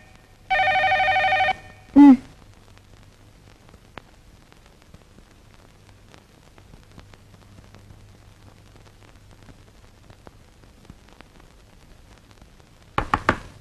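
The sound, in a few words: telephone ringing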